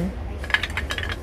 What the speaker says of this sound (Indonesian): Sendok-sendok kayak gini aku suka banget ini.